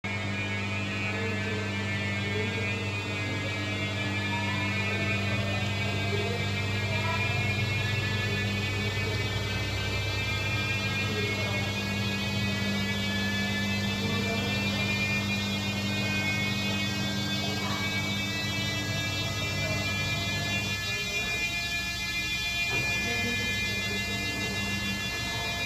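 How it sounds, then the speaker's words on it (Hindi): A Samsung front-load washing machine with a noise fault runs with a steady, loud humming whine and stacked tones that slowly climb in pitch, continuous throughout with a brief change near the end. "ये सैमसंग का वॉशिंग मशीन है। कस्टमर की शिकायत है, आवाज़ करता है।"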